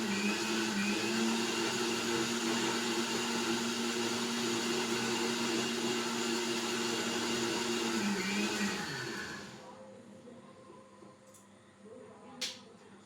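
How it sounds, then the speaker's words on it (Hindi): A kitchen mixer grinder whirs loudly and steadily while blending ginger, garlic and cumin into a paste, then winds down and stops about nine seconds in, leaving quiet room tone with a couple of small clicks. "मिक्सचर ग्राइंडर में मैंने अदरक, लहसुन और जीरा इन तीनों चीज़ों का एक पेस्ट बनाने के लिए अभी देखो मिक्सचर पे डाल दिया है"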